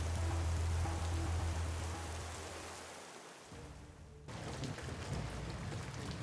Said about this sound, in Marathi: पाऊस इतका जोरदार कोसळत होता